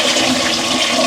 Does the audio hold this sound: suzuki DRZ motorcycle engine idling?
no